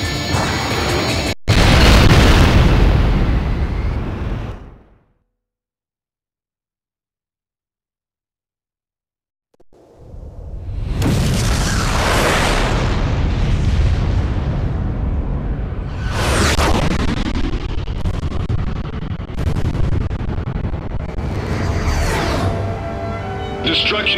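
Loud explosions and crashing blasts from the aerial combat video game Ace Combat Joint Assault, with a heavy burst, a sudden silence, then continuous rumbling booms and whooshes under radio-style voices.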